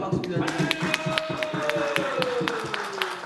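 A church congregation claps together in praise, a steady run of sharp, rhythmic claps carried over an ongoing voice and sustained background tone, moderately loud throughout.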